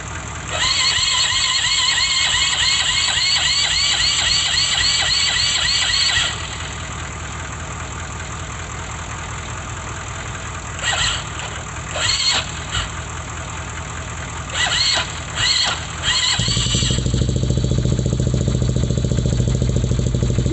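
Freshly built Yamaha Warrior 350 ATV engine fires up for the first time: a loud, steady running note with a high whine for several seconds, a lull with brief revs, then a deeper, rougher roar at the end, with no talking.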